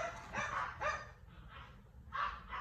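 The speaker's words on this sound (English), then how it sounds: "Please forgive my dogs before I list it." Indoors, pet dogs bark several times in short bursts at moderate volume, with soft whimpering yips between the barks.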